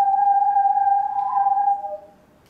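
A ridged plastic sound hose is whirled through the air, giving a steady, clear tonal whistle with a faint overtone that holds for about two seconds, then wavers in pitch and fades out.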